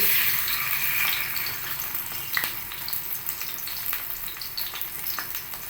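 Lentil fritters frying in hot oil give a continuous bubbling sizzle with small pops, fairly soft and unbroken throughout, with no one speaking.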